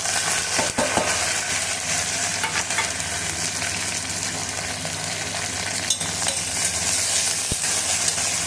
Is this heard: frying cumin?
yes